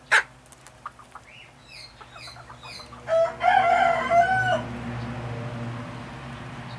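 Sebright chickens in a small coop, clucking softly at first before a young cockerel lets out a loud, drawn-out crow in the middle, followed by faint low clucks under a steady background hum.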